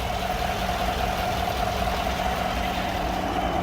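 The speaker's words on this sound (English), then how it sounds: "looking under the hood, you find the V8 idling quite happily." A 2016 GMC Sierra V8 sits idling after a cold start, a steady, even engine hum with a constant low drone and no revving, heard alone and close by.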